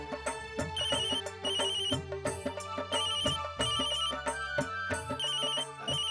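A mobile phone ringtone for an incoming call plays a repeating electronic melody, several cycles with a steady rhythm, fairly soft and alone with no talking.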